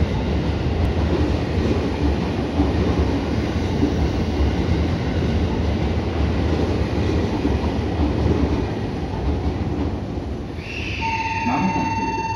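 An out-of-service JR 313 series train passes through Kanayama station, a loud, steady rush of wheels and rail noise, with a high electronic tone and chime coming in near the end.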